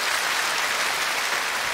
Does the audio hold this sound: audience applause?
yes